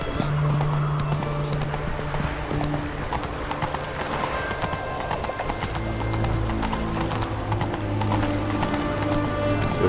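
Rhythmic clip-clop of horse hooves at a steady trot in The Witcher 3, with a horse whinny and a sustained musical drone underneath.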